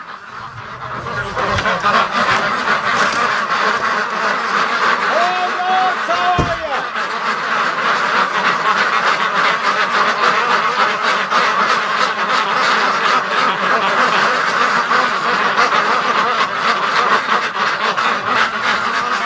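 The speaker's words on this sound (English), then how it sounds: "they were just quacking like crazy" Loud, continuous quacking from a crowd of ducks, dense and close, with a brief honk-like call partway through.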